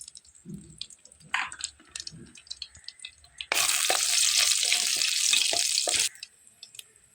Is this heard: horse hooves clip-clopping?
no